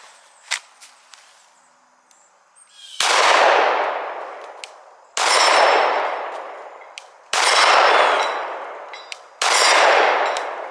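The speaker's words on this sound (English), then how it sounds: "And put some rounds downrange." A PSA Dagger pistol fires four loud, sharp shots at a steady interval of about two seconds, each with a long echoing decay outdoors, preceded by a few faint clicks.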